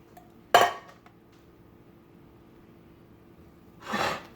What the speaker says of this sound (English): Mix it well to form a dough.